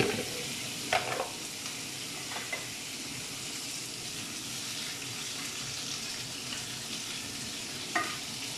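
Frozen vegetables sizzling and crackling steadily in a hot pan, with a few brief stirring scrapes, no voices.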